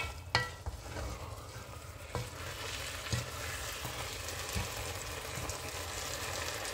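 Sweet potato leaves (matembele) with whole chillies cooking in oil, giving a steady close sizzle with scattered sharp stirring knocks and scrapes from the pan, no voices.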